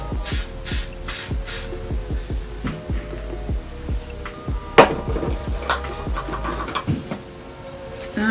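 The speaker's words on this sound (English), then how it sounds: "spray the hair, spray the hairline again before I put the elastic band." Several short bursts of hairspray hiss from an aerosol can onto a wig's hairline, close and crisp, followed by a few small clicks and handling noises.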